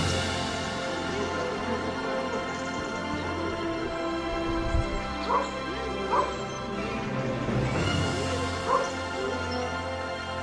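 A dog barks at the centre of the stage in the ancient theatre at Epidaurus in the Peloponnese, Greece, giving a few separate, moderately distant barks over a soft, continuous open-air background.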